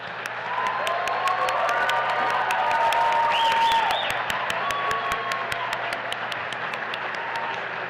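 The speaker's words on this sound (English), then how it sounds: "Will you please join me in a round of applause for our class of 2025?" A graduating class at an M.Ed hooding ceremony is greeted by steady, sustained audience applause with some cheering and whoops. The clapping stays dense and fairly even throughout, with no speech over it.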